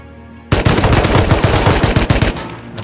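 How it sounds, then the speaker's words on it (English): Sustained automatic gunfire in the survival game Rust, a loud rattling stream of rapid shots lasting a couple of seconds before it breaks off abruptly and leaves a faint tail. "Gunshots going off."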